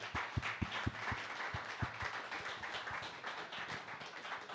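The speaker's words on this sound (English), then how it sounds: "please, a super big round of applause to our panelists today" Applause for panelists at a live-streamed SuperIntelligence 2049 event, a quick run of distinct claps early on that settles into softer, thinner clapping, moderately distant and fairly faint.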